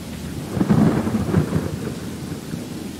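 Thunderstorm in the Skyrim Special Edition video game, a low rolling rumble of thunder swelling and fading over steady rain, no voices.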